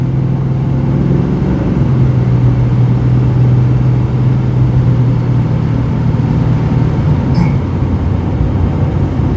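A 1993 GMC Jimmy 4x4 with a swapped-in V8 drives along, its loud, steady low engine drone filling the cab as the pitch shifts slightly, with no talking.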